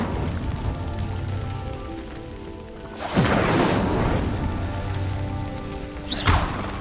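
Incendio spell lighting pyres in the Hogwarts Legacy video game: a steady crackling, hissing bed with two sudden whooshing flare-ups, one at about three seconds and another near the end, no talk.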